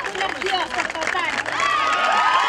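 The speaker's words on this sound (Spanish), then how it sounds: "Hermoso, se merece un aplauso." A studio audience cheers and claps loudly for several seconds, with excited shouts and whoops rising over the applause, swelling toward the end.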